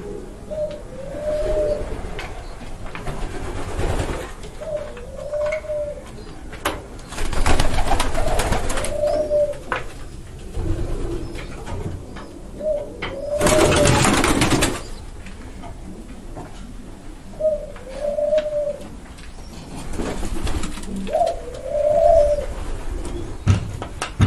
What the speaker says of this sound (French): Là, les volières où il y a des pigeons en réserve